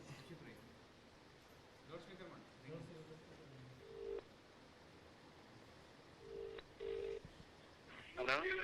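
A telephone call goes out to the district collector's office after a landslide at Shirur in Ankola. Short electronic dialing and ringing tones sound in a few separate bursts over a low background hiss.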